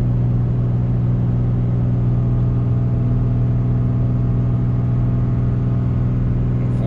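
A 2017 RAM 3500 with a Cummins diesel tows about 30,000 lbs in fourth gear at a steady 2,500 RPM, giving a constant loud, low engine drone and road rumble with no gaps.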